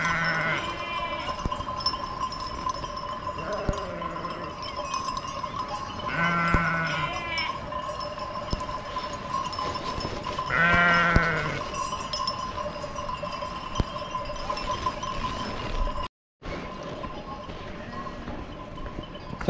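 Sheep bleat several times on a hillside after rain, with separate calls spread apart and heard at a moderate distance over a steady outdoor background hum, with no talk in between.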